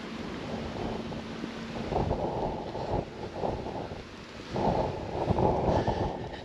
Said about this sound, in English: It is a bit breezy as well today